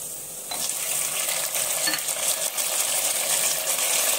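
Tomatoes hit a hot pan of half-fried onions for chicken biryani and sizzle loudly while a spoon scrapes and stirs through, crackling steadily throughout.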